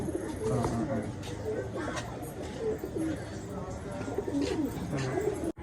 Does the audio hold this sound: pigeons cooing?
yes